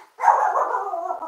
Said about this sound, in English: the puppy likes to bark at him.